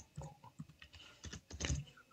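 Quiet typing on a computer keyboard, a short irregular run of soft key clicks close by with no talk.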